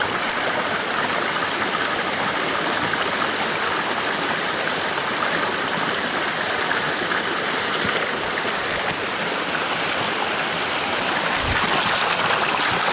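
Creek water at Eternal Flame Falls in Chestnut Ridge Park, Orchard Park, rushing in a loud, steady broadband flow, close by, with a brief thump near the end and no talk.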